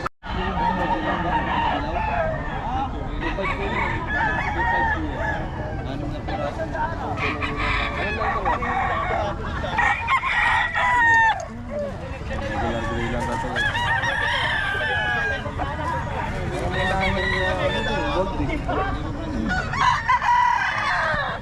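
Roosters crow repeatedly among clucking chickens at a roadside market where fowl are sold, a dense, busy chorus with overlapping calls and background chatter.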